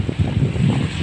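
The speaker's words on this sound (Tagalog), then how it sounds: "Lakas pa ng hangin." Strong monsoon wind buffets a boat at sea at night, a steady low rumbling roar of gusts and wind noise against the microphone with faint water wash beneath, continuous and fairly loud with no voices.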